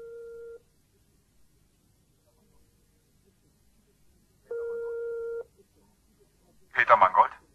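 In a German crime radio drama, a telephone line gives a short tone and then one long, clean ringback tone after a quiet pause. A brief spoken voice follows at the end.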